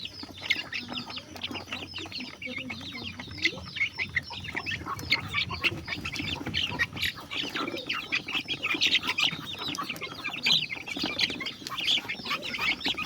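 24-day-old native chicks and chickens cluck and squawk constantly, a busy flock close by with overlapping calls and chirps throughout.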